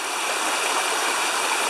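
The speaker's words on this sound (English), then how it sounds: "we've come to this nice little waterfall." A small waterfall on Bear Creek rushes with a constant close, loud hiss that holds steady and has no breaks or voices.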